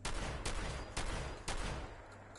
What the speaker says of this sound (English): This is a shotgun.